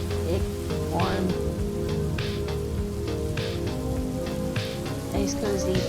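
Steady rain falls outside in a hissing, continuous wash with scattered drops, heard beneath music and a few sharper taps.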